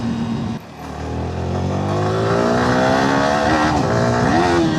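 A Yamaha R15 V4M motorcycle on a track revs hard in a loud, continuous engine roar that climbs in pitch, dips briefly at a gear change, then rises again, close and with no talk over it.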